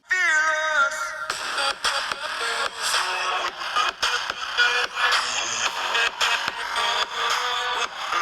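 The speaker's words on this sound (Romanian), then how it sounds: "am aici o melodie deschisă în YouTube, am să-i dau play" A pop song playing through the small bottom speaker of a Xiaomi Poco M3 Pro 5G phone, steady and fairly thin, with a busy beat running continuously throughout and no talking.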